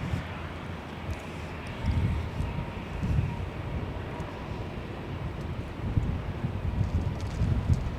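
A Korean Air airliner takes off at LAX as a distant, low rumbling roar that builds slowly under wind noise buffeting the microphone.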